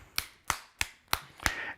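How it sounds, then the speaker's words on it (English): Five sharp, evenly spaced hand claps in a clapping-for-health routine, each crisp and close, about a third of a second apart, with quiet gaps between and no talk. "So we're gonna clap."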